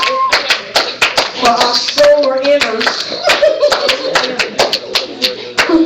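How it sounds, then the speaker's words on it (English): Many hands of a church congregation clapping in an uneven, crowd-like rhythm, loud and continuous, with a voice speaking over the applause. "Somebody give God a hand clap of praise."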